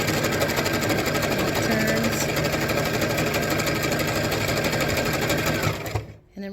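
A sewing machine stitches a buttonhole on its own, a steady fast mechanical whir and rattle running continuously up close before cutting off at the end.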